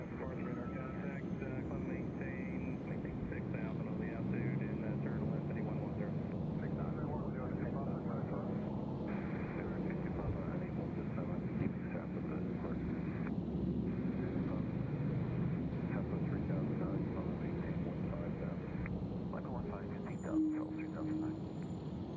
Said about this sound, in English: Here comes Alaska off runway 20 left.